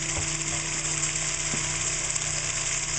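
A see-through oil centrifuge spins its rotor while filtering waste vegetable oil, giving a steady, loud whirring hum with a constant high hiss and no change across the stretch.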